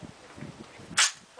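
A single sharp gunshot-like crack from a test-fired gun rings out near the end, loud and brief, following low murmuring voices in the background.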